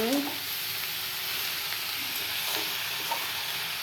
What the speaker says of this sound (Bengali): এই যে মশলাটা একটু ভাজা ভাজা হলো